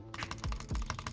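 A computer mouse is butterfly clicked during Minecraft PvP, making a rapid, dense burst of sharp clicks close up for about a second.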